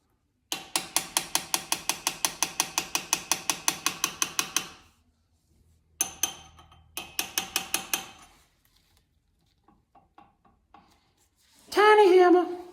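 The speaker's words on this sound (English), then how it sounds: "Tiny hammer." Rapid, evenly spaced metallic taps from a small hammer on a GM 10 bolt rear end in a long burst, then two shorter bursts after a pause, ending with a brief ringing scrape.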